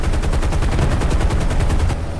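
Aircraft guns firing in a strafing run in a video game, a loud rapid burst of about a dozen evenly spaced shots ending abruptly.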